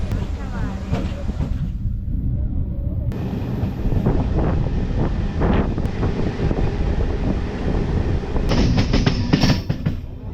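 A MEMU passenger train on the Tiruvannamalai to Chennai Beach run rumbles along near Chitteri, with rolling wheel clatter, rattling carriages and wind buffeting the microphone, and a voice speaking over it.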